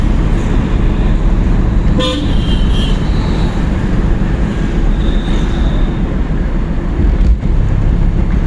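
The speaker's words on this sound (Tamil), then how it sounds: "ஹார்ன் அடிச்சுங்க" A car horn toots briefly during a driving lesson, sounding once or twice over a steady, loud rumble of the engine and road inside the car.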